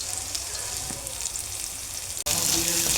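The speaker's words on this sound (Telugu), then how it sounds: "ఇలా మిక్స్ చేసుకోవాలని ఫ్రై చేసుకోవాలన్నమాట." Green peas and green chilies frying in a pan, a loud continuous sizzle with a few stirring clatters, briefly cutting out and then resuming even stronger.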